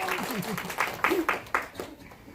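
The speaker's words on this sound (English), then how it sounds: "I give you a round of applause." Audience applause at a storytelling slam event, scattered, uneven claps forming a rhythmic pattern of separate bursts, with a voice talking over them near the start.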